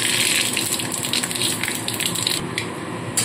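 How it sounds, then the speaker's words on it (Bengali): Panch phoron, the Bengali five-spice mix, hits hot oil for a shukto and sizzles with a bright, crackling hiss that is loud and close, with no talk. "এবার এই তেলের মধ্যে দিয়ে দিচ্ছি 5 ফোড়ন।"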